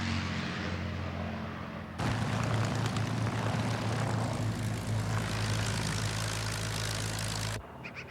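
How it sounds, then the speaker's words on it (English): Authentic Japanese and American World War II propeller fighter planes flying during filming: a loud, steady droning engine roar that swells sharply partway through, then cuts off abruptly near the end. "authentic Japanese and American fighters were used with the help of a small air force"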